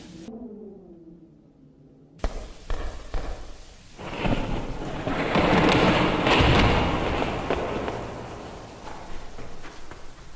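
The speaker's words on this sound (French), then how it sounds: "Oh, il grêle, il vente." A rumbling storm builds into a loud roar of pelting hail or rain and gusting wind, with scattered thumps, swelling then easing.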